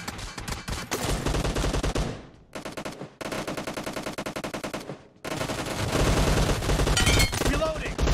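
Rapid gunfire from a first-person shooter video game crackles through dense, continuous bursts over a game music bed, breaking off briefly twice before resuming louder and steadier toward the end.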